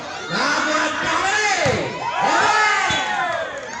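A loud crowd of spectators cheers and shouts at a regional open volleyball match in Aceh, ADT VC against Putra Angkasa. The roar swells in two big waves and stays dense, with a commentator's voice running underneath.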